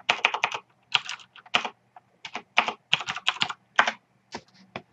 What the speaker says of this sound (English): go on your terminal, type in Nautilus